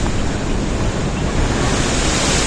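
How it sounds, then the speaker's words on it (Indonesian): Ocean waves of the southern sea crash and surge below, a continuous loud roar of surf with wind rushing over the microphone at dusk, steady throughout with no talk. "Nah itu ombaknya di bawah, hempasan ombak laut selatan luar biasa saudaraku"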